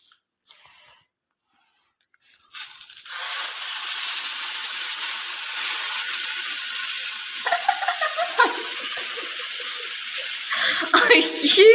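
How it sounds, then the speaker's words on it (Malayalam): Dosa batter hitting a hot pan, an abrupt loud hiss that starts after a short quiet stretch and keeps sizzling steadily, with a voice talking faintly over it near the end. "നമുക്ക് ദോശമാവ് ഇങ്ങോട്ട് ഒഴിക്കാം"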